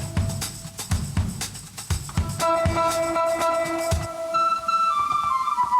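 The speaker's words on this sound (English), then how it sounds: "that's similar sort of whistle to the thing I was looking for before" A synth whistle patch played in Kontakt alongside a beat, sustained whistling tones entering midway over rhythmic percussive hits, with a drum pattern carrying the first half.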